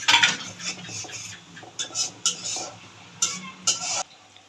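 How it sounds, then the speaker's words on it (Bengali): Shrimp being turned through spice paste in a pan, with several distinct scraping and clinking strokes of a utensil against metal over a faint background, no talk. "চিংড়ি মাছ দিয়ে একটু"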